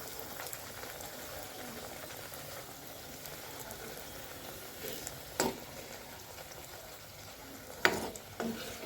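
Pea-filled kachori frying in hot oil in a wok, a faint steady bubbling sizzle broken by a couple of sharper clinks and pops as the oil is stirred around them; no talking.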